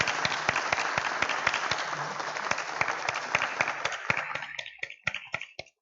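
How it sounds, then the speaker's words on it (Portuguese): An audience applauds at a book pre-launch event, a dense round of clapping from many hands that thins toward the end into a few scattered separate claps. "a gente vai bater palmas"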